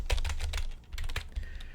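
Close, fairly loud typing on a computer keyboard, a busy run of key clicks with a short pause partway, no voices.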